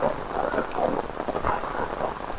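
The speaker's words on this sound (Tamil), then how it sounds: "மழை" Heavy rain pours steadily during a red-alert downpour in Jaffna, with cattle sheltering nearby; a dense, continuous hiss fills the whole stretch with no talk.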